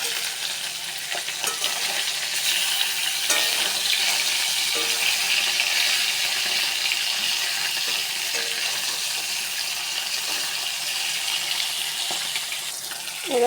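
Continuous close sizzle and crackle of a fish head frying in hot oil with ginger, steady throughout with faint stirring and scraping, no voices.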